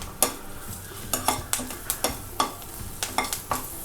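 Ginger and garlic are lightly sautéed in a pan: a soft sizzle runs underneath while a utensil stirs, scrapes and taps the pan in a series of sharp, irregular clicks, close up and with no talking.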